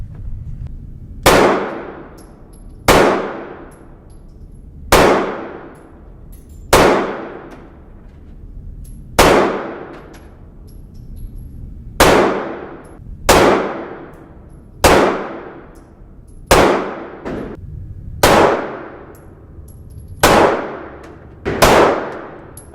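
Eleven sharp 9mm pistol shots fired at targets with a compact concealed-carry handgun fitted with night sights, each report a loud, close crack with a short decaying tail, spaced irregularly every one to three seconds.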